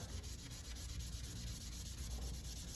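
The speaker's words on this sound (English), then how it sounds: "I'll just do an initial rub down" Sandpaper rubbing down a wood surface ahead of staining and distressing, a steady close scratchy rasp of even back-and-forth strokes running throughout with no talk.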